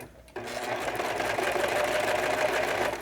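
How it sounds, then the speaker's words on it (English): A serger sewing machine starts up abruptly and runs steadily as it serges a sleeve seam folded right sides together, a loud continuous mechanical whir with no talk. "we'll go straight over to the serger to serge this seam"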